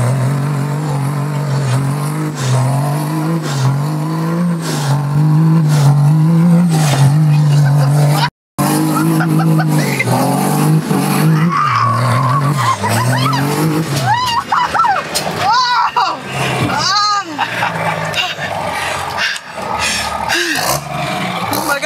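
A lifted truck with a 600 hp 6.7 Cummins swap and NV5600 gearbox revs loudly in third gear, then dumps the clutch, and its tires squeal in rising and falling wails over the heavy diesel roar.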